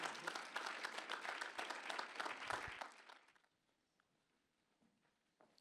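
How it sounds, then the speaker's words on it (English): An audience claps for a speaker named Sam, a brisk burst of many hands that goes on for about three seconds before fading into a quiet room with a few scattered claps. "Give a big round of applause for Sam for being so patient with that clicker."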